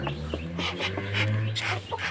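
Rhode Island chickens with their young chicks, clucking and peeping close by in short overlapping calls, with a steady low hum underneath.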